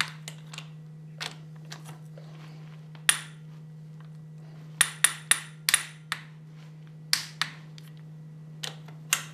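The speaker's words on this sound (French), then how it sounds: "Vous faites ceci jusqu'à entendre le clic de la clé dynamométrique." A torque wrench tightens cylinder head bolts on a café racer's motorcycle engine block, giving a series of sharp, close metallic clicks at irregular intervals over a steady low hum.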